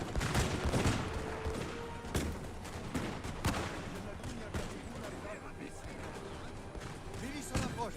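Musket volleys crack repeatedly in Napoleon Total War, scattered sharp reports of varying distance ringing out across a battlefield, some near and punchy, others distant, with a faint voice now and then.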